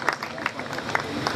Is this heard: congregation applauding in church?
yes